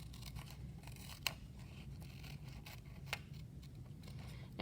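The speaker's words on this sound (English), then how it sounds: "you're going to very carefully cut them out" Scissors cut slowly and carefully through paper shapes for a tessellation. The soft, close snips and crisp slicing are quiet and steady, with a couple of sharper snaps, and no voices.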